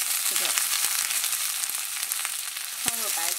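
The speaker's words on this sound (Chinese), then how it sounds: "放入适量的油，油烧热以后放入大蒜煸香" Garlic and vegetables stir-frying in hot oil, a close, continuous sizzle with a few scraping strokes of a spatula, alone without voices.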